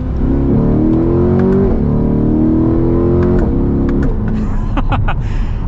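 A 2023 Chevy Corvette Z51 convertible accelerates hard from inside the cabin, its engine note rising steadily in pitch, dipping briefly at gear changes and climbing again, loud and continuous throughout.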